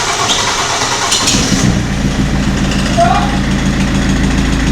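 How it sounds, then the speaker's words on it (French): A car engine, from a snow-prep job on a BMW E46 or Mercedes, idles steadily after cranking into life, a low drone with a crankshaft pulley noise in it, loud and close, with brief talk over the start. "On a Poulie de Villebrequin qui fait un nouveau bruit"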